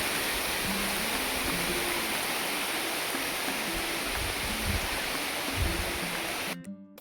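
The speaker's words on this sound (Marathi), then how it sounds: "पाण्याचे मस्त झरणे" Steady rushing water flows near an ancient Shiva temple at Bhiwandi, a continuous broadband wash heard close and loud, ending abruptly near the end.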